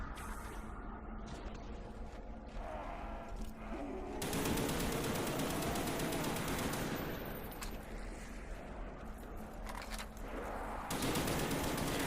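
An HK gun fires in sustained, dense bursts during a Call of Duty Zombies match on the Moon map, loud and continuous with a heavier stretch of fire near the end.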